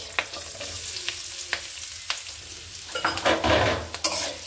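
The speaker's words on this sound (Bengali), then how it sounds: "এটা আমি তেলে ভেজে নিই।" Onions frying in oil in a pan, a steady close sizzle broken by several sharp utensil taps and scrapes against the pan, with louder stirring near the end.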